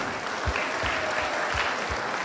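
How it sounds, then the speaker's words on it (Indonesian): An audience at a Catholic talk gives a round of applause, a dense, even patter of many hands with a few deeper thumps underneath, sustained through the short stretch. "Tepuk tangan."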